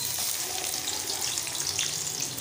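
Chopped onions fry in hot oil for a bhindi qeema dish, a steady, close, hissing sizzle with no talking.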